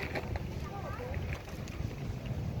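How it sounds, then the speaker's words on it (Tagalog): Strong wind buffets the microphone with a low rumble outdoors near water where boats are rocking, as faint voices murmur underneath. "medyo malakas ang hangin ngayon ha?"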